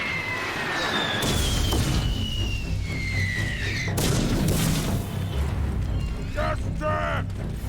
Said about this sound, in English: Oh, Zeppelin dude. Dropping them bombs.